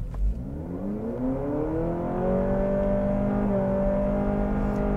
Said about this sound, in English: We're going to brake torque it and floor it.